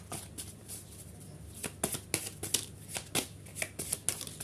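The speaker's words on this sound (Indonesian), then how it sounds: "Kita ambil dua lagi kartunya." Tarot cards are shuffled and drawn by hand, producing quiet, rapid riffling and a series of crisp card slaps and flicks in an irregular rhythm, with no voices.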